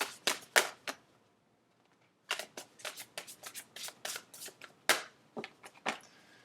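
Tarot cards being shuffled by hand: quick bursts of crisp riffling and snapping, a brief pause, then a longer run of sharp card slaps and flicks close to the microphone, fairly quiet, with no talking.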